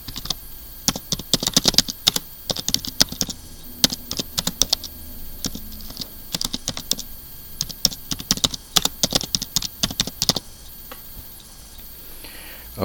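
Rapid bursts of typing on a computer keyboard, keys clicking in quick irregular runs with short pauses, close and clear with no talking.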